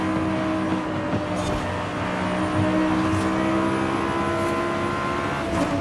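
A Lexus LFA engine in the racing game Forza Horizon 5 revs and drones continuously at high pitch, loud and close, with small swells in pitch as it accelerates.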